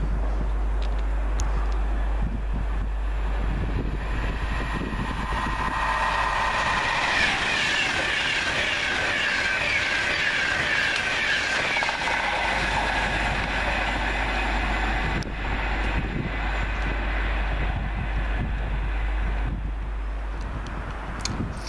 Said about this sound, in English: This is 1 Alpha 21 from Manchester Piccadilly, going to London Euston, operated by 390011.